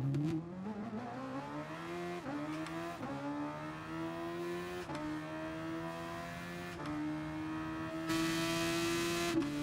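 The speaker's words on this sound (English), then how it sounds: "Listen to the engine on this one." A race car engine in the Gran Turismo Sport video game revs steadily upward through several gear changes, each climbing whine dropping back and building again, loud and alone with no talk.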